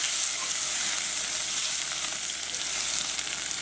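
Chopped spinach and whole red chilies fry in a pan with a steady, bright hiss and crackle while being stirred, the sizzle holding evenly close up without any talk.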